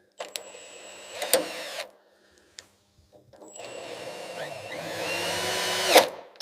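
A power drill bores a pilot hole into a snapped bolt during restoration of a 1965 Sunbeam Tiger, with a short whirring burst and then a longer, steady grinding run ending in a sharp spike.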